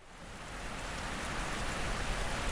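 Steady rain falls in a dense, even hiss, holding at a moderate level throughout and growing slightly fuller toward the end, with no voices.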